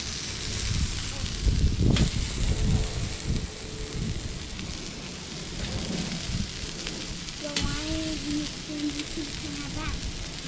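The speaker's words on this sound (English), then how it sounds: "See us cooking these scallops this way, look it." Scallops sear on a steel discada outdoors, a constant loud hiss and crackle filling the scene, with brief clanks and faint background sounds mixed in.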